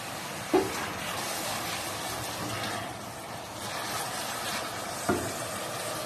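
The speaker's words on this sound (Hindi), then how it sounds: "मसाला अब जो हमारा है थोड़ा भून चुका है। टमाटर, लहसुन और प्याज हैं ऑयल के अंदर।" Tomatoes, garlic and onion fry in hot oil for aloo baingan, giving a steady close sizzle with two brief clacks of stirring, and no talking.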